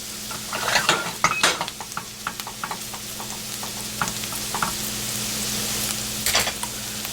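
A creamy mushroom omelette is stirred and swirled in a pan: close utensil clicks and scrapes tap irregularly over a steady soft sizzle, with no talking.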